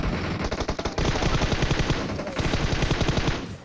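Automatic gunfire in the PUBG Mobile video game, rapid loud bursts of shots close by, nearly continuous across the clip with a short break near one second.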